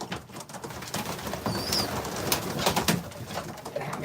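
Pigeons coo in a loft, soft rolling calls that overlap amid close shuffling and a few brief flutters and chirps, with no voices.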